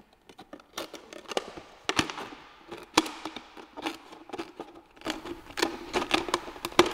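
Scissors snip close by in a string of crisp, uneven cuts, a dozen or more quick clicks and rustles.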